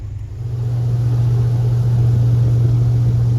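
An airboat's engine and propeller drone loudly and steadily close by on a boat tour, a deep constant rumble that builds in the first half second and then holds.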